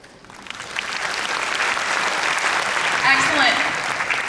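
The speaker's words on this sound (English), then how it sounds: "Great round of applause for Rustin." Applause from a conference audience at Microsoft's Computex 2019 event swells from a few claps into a full, sustained ovation of many hands, with a brief voice heard over it near the end.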